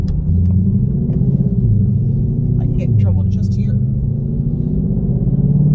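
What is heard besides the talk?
Shelby GT500 engine rumbling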